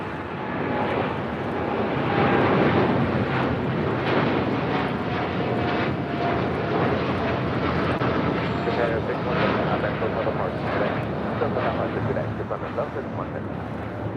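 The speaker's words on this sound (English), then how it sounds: "That was a flight heading to Tokyo Narita, flight 61. China Eastern, the 777-300ER." China Eastern Boeing 777-300ER, flight 61 bound for Tokyo Narita, at LAX: a continuous broad jet engine roar that holds loud and steady throughout, with speech faintly mixed in.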